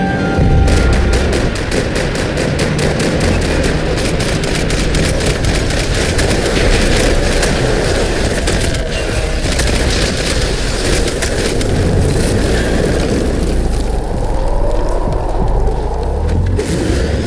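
Dense gunfire in the video game Max Payne 3, rapid overlapping shots and bursts hammering continuously for the whole stretch, loud and close with booming impacts and no talk over it.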